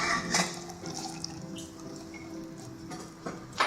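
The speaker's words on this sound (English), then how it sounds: "that is when you top up with hot water" Hot water pours into a coffee press to top up brewing grounds, a close, steady trickling stream with a few splashy drips at the start and end, no talking.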